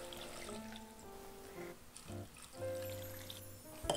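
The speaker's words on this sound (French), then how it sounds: "Maintenant, tout de suite, je mets de l'eau dedans." Water poured into a pot of salmon pieces for Japanese salmon hot pot (ishikari nabe), a quiet close trickle and splash in short bursts over about four seconds.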